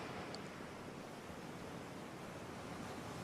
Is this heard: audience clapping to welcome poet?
no